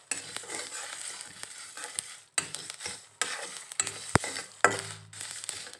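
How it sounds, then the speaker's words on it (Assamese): Spices roast in a pan for spicy jujube pickle. Soft, close crackles and scraping stirs come in irregular clusters, with small pops and brief quiet gaps between strokes. "এয়া শুনিছে চাগে আপোনালোকে, মচলাখিনি ভজা হৈছে আৰু অলপ অলপ এয়া ফুটিছে"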